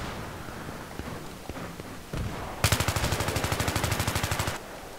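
Gunfire in Battlefield 3: a few scattered distant shots, then a loud automatic burst of about twenty evenly spaced rapid rounds lasting roughly two seconds before cutting off.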